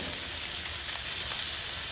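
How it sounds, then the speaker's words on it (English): Onion chars on a Blackstone griddle with a steady, close, even sizzle and crackle throughout, no talking. "Really, I just blacken it up a little bit,"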